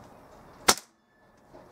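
A single sharp, short crack from a Weihrauch HW97 air rifle with a replaced spring, heard once in an otherwise quiet setting, fairly faint and followed by near silence.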